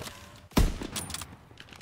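A single sharp shot from a Lee Enfield sniper rifle in Call of Duty WW2, a loud close crack followed by fainter game noise and small thuds.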